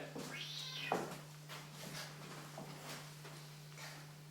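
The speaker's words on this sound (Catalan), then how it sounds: "Peter, veig que has portat el teu gat," A pet cat gives a clear, close meow with a rising and falling pitch near the start, then stays quiet over a steady indoor hum.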